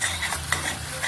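A spoon stirs curry leaves and tomato frying in a pan for chicken curry, a short scraping stir over a soft, steady sizzle.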